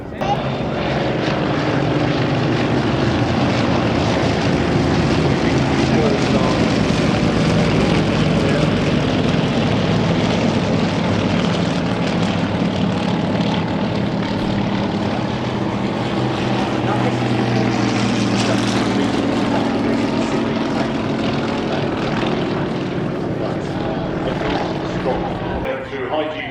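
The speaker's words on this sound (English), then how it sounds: "Watching out for the return of this extra aerobatic aircraft for an amazing sequence of aerobatics." An Extra aerobatic propeller aircraft flies an aerobatic display at the Farnborough International Air Show 2014, its engine roaring steadily and loudly throughout with rising and falling pitch as it manoeuvres, over constant crowd and wind noise.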